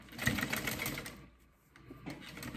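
A sewing machine stitches a fabric fold-over clutch in steady bursts of close mechanical whirring, with a short pause in the middle before the stitching resumes.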